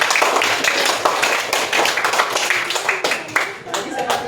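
Classroom of young students clapping for a classmate during a fifth-grade math lesson, a dense run of hand claps with overlapping chatter and voices throughout.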